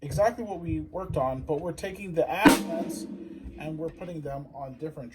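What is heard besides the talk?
No everyday noises stand out.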